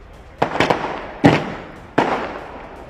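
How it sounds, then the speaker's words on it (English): Firecrackers going off at an outdoor election results celebration in Thane, Maharashtra, a series of sharp cracking bangs, a quick cluster of three followed by two more spaced blasts, moderately close. "So these firecrackers will go."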